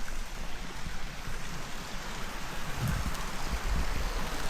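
A river flows through park-like grounds at a fossil museum in Nasu-Shiobara, Tochigi, giving a steady, soft, broadband rush with light wind buffeting the microphone and no voices.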